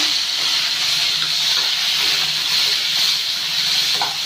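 Onion, garlic and tomato frying in a pan for gongura chutney, a loud, continuous hissing sizzle without pauses.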